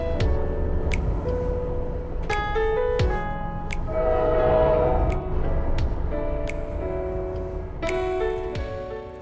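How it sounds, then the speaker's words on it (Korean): An overnight sleeper train to Aswan in Egypt rolls along, its wheels clicking in steady rhythmic ticks over the rails beneath a sustained horn-like tone that swells and fades, with no talking. "기차 소리 퐁."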